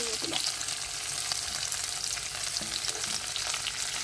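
Shallots and curry leaves sauté in hot oil for a Kerala chicken curry, giving a steady, close sizzle and crackle with occasional faint stirring clinks throughout.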